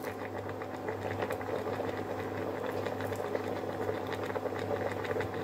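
Lamb with a bay leaf boils in a lidded pot of water, giving a steady, close bubbling patter with a low hum underneath and no voices.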